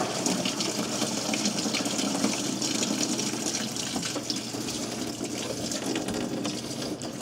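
Fluid drains from a Ford Ranger during an A/C repair, producing a steady continuous gushing, splashing flow close by, with no one talking.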